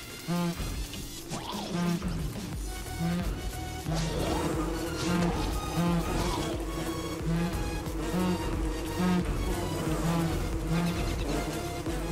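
Bees buzz steadily in Don't Starve, a close, constant insect drone layered over a repeating low musical pulse from the game.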